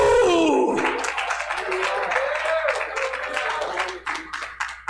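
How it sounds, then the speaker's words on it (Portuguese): A church congregation applauds for Jesus during a sermon, dense clapping that starts after a brief vocal sound and continues steadily, with voices mixed in beneath it. "Dê uma salva de palmas a Jesus"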